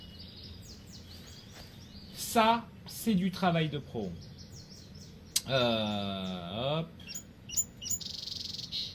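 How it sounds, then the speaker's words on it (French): Game birds in Gabriel Knight 2 chirp and tweet in quick, high, sweeping calls, moderately loud, while someone talks over them. "les petits oiseaux."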